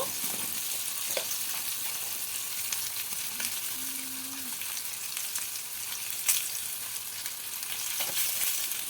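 Salt, turmeric and nigella seeds frying in hot oil, a steady soft crackling sizzle with scattered pops and a brief stir partway through.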